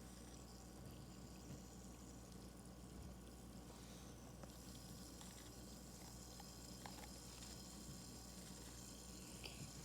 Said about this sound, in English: Can you hear that bubbling?